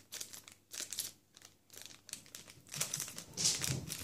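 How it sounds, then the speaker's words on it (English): Plastic bag of a jewelry kit being handled, close and soft crinkling in irregular bursts and rustles throughout, with no talking. "it makes lovely crinkling"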